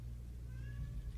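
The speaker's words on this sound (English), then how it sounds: "Freaking cat. He's like, I want to go outside." A single short meow from a house cat wanting to be let outside, moderately close and fairly quiet, with no talking over it.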